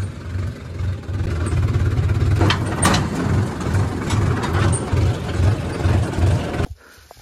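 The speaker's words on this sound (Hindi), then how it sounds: "और ट्रैक्टर लेके अपन आ गए हैं" A tractor runs at a soybean field during harvest, a steady loud diesel engine rumble with a low pulsing throb that cuts out abruptly near the end, leaving quieter background.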